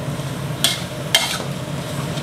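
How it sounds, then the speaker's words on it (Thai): Yentafo noodles stir-fried dry in a pan give a soft, steady sizzle, broken by two brief scraping strokes of a utensil against the pan. "วันนี้จะผัดแห้งๆนิดนึงครับ"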